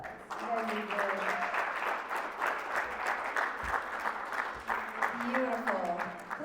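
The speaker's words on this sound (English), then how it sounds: "Give yourselves a round of applause." An audience claps after a poetry and percussion performance with drums, a lively sustained burst of applause that rises after a brief voice and continues with talking heard at its edges.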